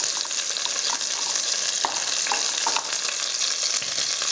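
Butter ghee sizzling in a pot just used to fry chicken, a continuous close bright crackle with scattered pops throughout, no talking.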